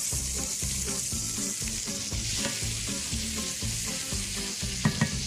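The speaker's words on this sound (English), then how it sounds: "I'm going to add about 1/4 cup more of extra virgin olive oil and our onion and peppers." Onions and peppers fry in extra virgin olive oil for penne alla vodka with sausage, a steady loud sizzle running throughout with rhythmic stirring scrapes and a few sharper clinks near the end.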